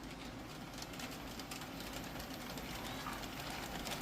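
An HO scale 4-8-4 Northern type model steam locomotive runs along its track with a steady, close mechanical whir and rumble that holds at an even level for the whole stretch, with no voice over it.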